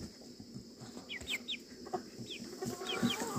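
Chickens cluck softly nearby in short bursts, with a few higher squawks amid quiet farmyard background noise.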